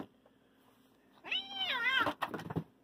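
A house cat gives one long, wavering meow close up, fairly loud after a quiet stretch, then a few short rustling sounds, with no talking.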